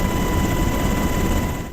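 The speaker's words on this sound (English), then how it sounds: "As the UH-60 Black Hawk helicopters make their way over Taliban territory to resupply American soldiers" UH-60 Black Hawk helicopters fly over Afghan terrain on a resupply run, producing a loud, close, continuous rotor and turbine roar with a steady whine, fading slightly at the end.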